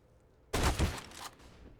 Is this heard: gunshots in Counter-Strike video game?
yes